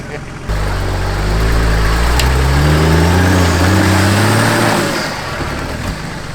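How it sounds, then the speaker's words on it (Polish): Nissan Patrol off-road vehicle with a weak engine driving on an off-road track, its engine droning loud and close with a laboring rise and fall in pitch before easing off. "to jest właśnie patrol z tym marnym silnikiem, Adam."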